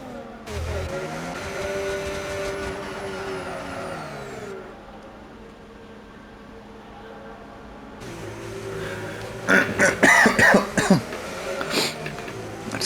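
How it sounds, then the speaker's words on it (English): Repeated coughing and throat clearing from a race commentator during a sim-racing broadcast, with car engine drone underneath; a burst of several close, loud coughs comes late in the stretch. "My cough is really causing me some tremendous problems at the moment."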